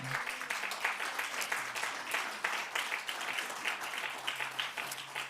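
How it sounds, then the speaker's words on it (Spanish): A church congregation applauds together in steady, dense clapping that holds for several seconds at a fairly even level, with a faint low hum running underneath. "Un aplauso al Señor."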